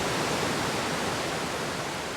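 A waterfall pours in a steady, broadband rush along a hiking trail, close and unbroken for the whole stretch, with no voices over it.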